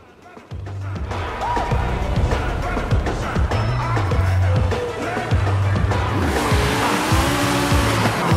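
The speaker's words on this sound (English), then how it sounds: "Final race with the IndyCar inspiration." An IndyCar-inspired race car in Forza Horizon 5 roars through a race, its engine note climbing and dropping through repeated gear shifts, loud and close, with tire noise and a voice talking at points.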